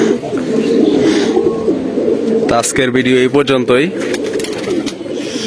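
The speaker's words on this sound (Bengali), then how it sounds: "এই যে একটা মাদি কবুতর একবার জায়গায় দাঁড়ায় রয়েছে।" Pigeons, including a hen, coo in a low steady warble close by, with a voice speaking over the cooing partway through.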